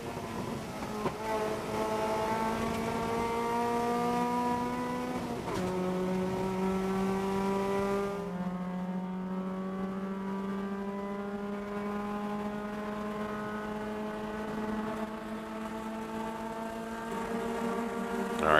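Race car engines rising in pitch as they accelerate during SCCA Hoosier Super Tour qualifying at Road America, several gear-climbing sweeps of a loud, close motor, with a commentator talking over it.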